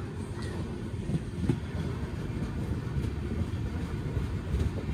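Passenger train rolling on the outer approach to Nagpur station, a steady low rumble of wheels and carriage noise with occasional soft knocks, close and continuous throughout.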